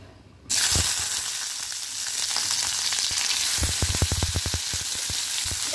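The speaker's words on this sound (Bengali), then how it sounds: "এবার ঘিয়ের মধ্যে দিয়ে দেবো" Capsicum, tomato and green chillies hit hot ghee with a sudden loud hiss that settles into a steady, close sizzle, with a run of quick spatula taps and scrapes partway through.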